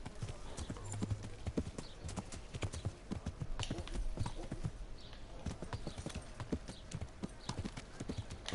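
Horse hooves clip-clop steadily at a brisk, even pace in the game Kingdom Come: Deliverance, with dense, close hoofbeats and faint ambient sound and occasional low noise underneath.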